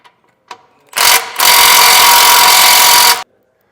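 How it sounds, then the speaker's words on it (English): A power tool with a 15mm socket backs out the tow hook bolts on a 2022 Ford Bronco. After a short stutter, it gives a loud, close whir lasting about two seconds, then cuts off abruptly. "we'll take our 15mm socket. We need to remove the 2 bolts holding our tow hooks in place"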